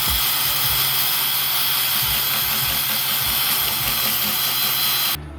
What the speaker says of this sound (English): so I can fit my drill with my 90-degree attachment